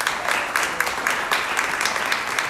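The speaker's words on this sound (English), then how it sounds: "Let's give them another round of applause." An audience applauding candidates at a county Democratic Party candidate forum, dense continuous clapping from a crowd with rhythmic swells, fairly loud throughout.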